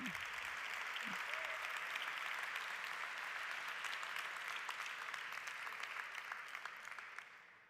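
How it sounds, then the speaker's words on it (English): Sustained applause from the audience at a hospitality awards ceremony, dense and even clapping that runs for about seven seconds before tapering off, with a brief voice at the start. "Give them another big round of applause for the best advertising campaign."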